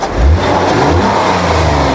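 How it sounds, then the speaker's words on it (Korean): Kia Telluride with a 3.8-liter naturally aspirated GDI V6 revs briefly, a loud, smooth engine note rising then settling into a steady hum. "엔진 소리도 V6 엔진의 그 부드러운 느낌이 있어요."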